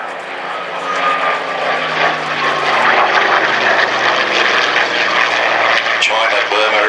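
A Curtiss P-40C propeller fighter at an airshow drones steadily and loudly, its engine tone building and holding for several seconds, with a commentator's voice over the public address running underneath.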